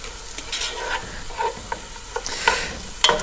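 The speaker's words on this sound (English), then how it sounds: "Stir this around a little bit further." Onions being stirred in a good-sized pan for New England fish chowder, with scraping strokes and soft sizzling in bursts over a steady frying hiss, close and moderately loud, no talking.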